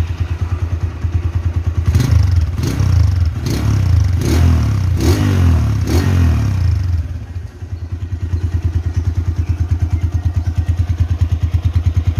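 A 2014 Honda Tiger Revo motorcycle engine with low mileage idles steadily up close, broken midway by a few sharp revs, then settles back into an even, throbbing idle.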